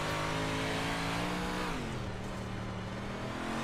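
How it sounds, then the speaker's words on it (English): Race car engine in the iRacing sim at Kokomo, revving hard on and off throttle through a turn, its loud droning tone sliding down as the driver eases off, steady and up close. "Listen to how he's working that throttle and turning"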